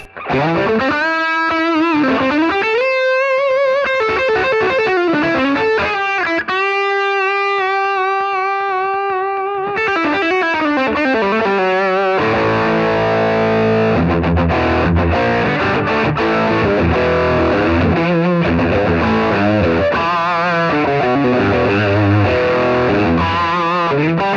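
A loud electric guitar plays through a distortion pedal, gain not fully up, starting with sustained bending notes and moving into thick, saturated chords and runs, with no voices.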